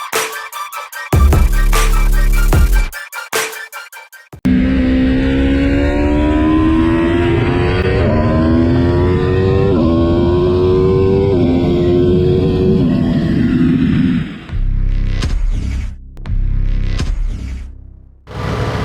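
An Aprilia RSV4 Factory superbike in gold and black livery at a Cadwell Park trackday, its engine loud and close, revving in repeated rising sweeps through gear changes before dropping away into choppier, broken noise.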